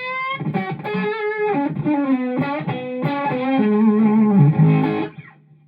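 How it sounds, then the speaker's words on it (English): An electric guitar runs through a fuzz pedal turned partly down, played in clear melodic notes with a gritty, saturated edge, then stops and rings out briefly. "rolled off the fuzz a bit because I was trying to see if I could get it to almost just add a bit of fizziness to the sound"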